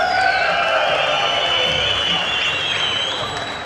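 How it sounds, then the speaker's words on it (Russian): Arena crowd at a heavyweight fight applauding and cheering in a continuous wash of sound, with whistles and shouts rising over the clapping. "давайте поаплодируем им громче"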